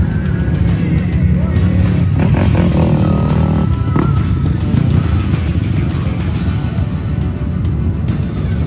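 An MXF TS300 trail motorcycle engine drones loudly and steadily throughout on a trail ride, with rising and falling revs, close by.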